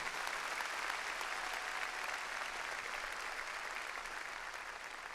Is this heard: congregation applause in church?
yes